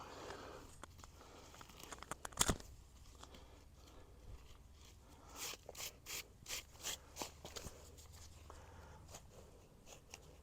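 A small plastic trowel scrapes across a hard bronze plaque in faint, irregular rubs, followed by a short run of quick, evenly spaced scraping strokes.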